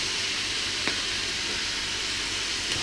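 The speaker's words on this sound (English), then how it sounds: "Add the capsicum." Beef stir fry in a hot pan with capsicum added, giving a steady, moderately loud broadband sizzle and hiss with a couple of faint brief clicks and no voices.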